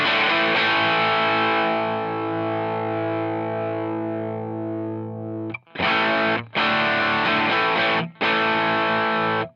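Distorted electric guitar through a Black Op overdrive on a Headrush unit: a long sustained chord ringing out and fading, then three loud, evenly spaced chord stabs.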